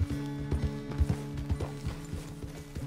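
Horse hooves clip-clop at a steady walking rhythm in Red Dead Redemption 2, close and clear, with faint tack and mechanical rattles mixed in and no talking.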